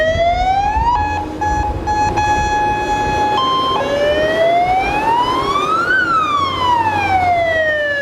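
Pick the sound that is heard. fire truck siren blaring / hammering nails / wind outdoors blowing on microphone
fire truck siren blaring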